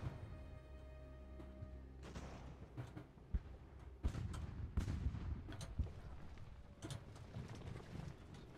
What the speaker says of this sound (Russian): давайте-ка разок выстрелить по ним